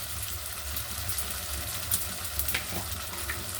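Spice paste with red chili powder and coriander powder fries in a pan with a soft, steady sizzle and faint occasional stirring scrapes, fairly quiet throughout.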